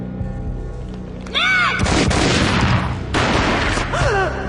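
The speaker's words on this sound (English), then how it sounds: "A gunshot boomed and she fell down in slow motion." Loud gunshot booms from the mobile action game Max Payne Mobile, a heavy blast near the start followed by another burst later, amid dramatic game score and swooping effects.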